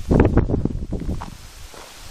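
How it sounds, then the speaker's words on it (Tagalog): Loud, blustery wind buffets the microphone in heavy low rumbling gusts, strongest at first and easing slightly toward the end. "Lakas-lakas ang hangin."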